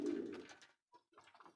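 Pet pigeons coo close by, soft throaty calls in two short bursts with a brief pause between.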